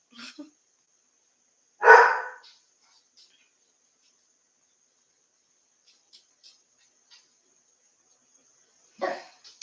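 An indoor dog gives one loud, close bark, followed by a few faint ticks in a quiet room and a second, softer bark burst near the end.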